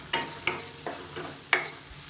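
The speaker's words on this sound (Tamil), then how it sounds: "தக்காளி சீக்கிரமாக வதங்கும் இது கூடவே ஒரு கொத்து கருவேப்பிலையில் சேர்த்துக்கலாம்" Tomatoes and curry leaves sautéing in a kadai, with about five separate stirring scrapes and light sizzle bursts spaced through the clip, close and moderately loud with no voices.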